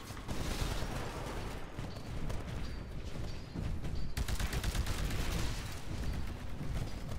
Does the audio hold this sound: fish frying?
no